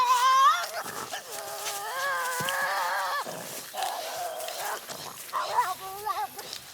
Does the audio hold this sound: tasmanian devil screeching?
yes